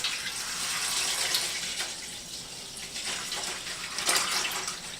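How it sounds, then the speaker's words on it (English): A gallon of store-bought whole milk glugs and splashes into a cooking pot during mozzarella making, a steady close pour with slight surges, no voices present. "So here's a gallon of just store-bought whole milk that we're going to pour into our pot here."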